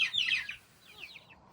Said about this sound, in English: I want them to find their water, find their food, and just let them be happy little chickens